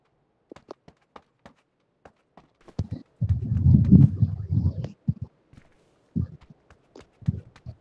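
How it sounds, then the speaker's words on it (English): Footsteps in the mobile battle royale game New State Mobile: sparse light taps, then a heavier rumbling patch of steps, then more scattered thuds. "I think those are all friendly footsteps so far."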